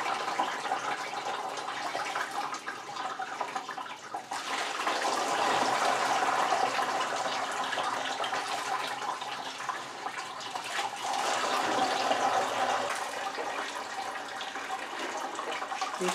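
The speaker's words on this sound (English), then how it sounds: "I pour everything, all my grain into my sieve. It drains through the holes" Corn moonshine mash and grain poured into a sieve, liquid draining steadily through the holes with a continuous wet rushing and splashing, fairly loud and unbroken throughout, no talking.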